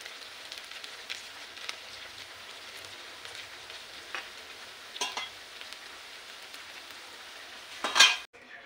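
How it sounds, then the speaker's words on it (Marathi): Sabudana vada fry in a pan over a low gas flame with a faint, steady sizzle and a few light clinks of a utensil, ending in a brief louder scrape. "बारीक गॅसवरती ना चांगले तळे जातात."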